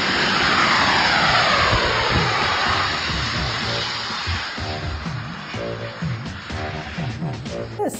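A jet pack at a jet pack competition roars loudly and continuously, a broad engine blast that slowly eases with pulsing low rumble underneath.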